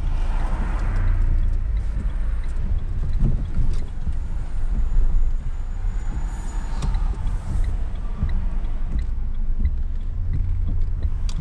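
A car pulls away with a dynamic start, engine rumble building low and steady from inside the cabin, road and motor noise filling the whole stretch with no talking.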